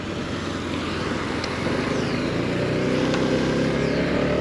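Steady engine drone and rushing wind from a Honda PCX125 scooter being ridden, a constant loud roar with a faint rising whine passing through.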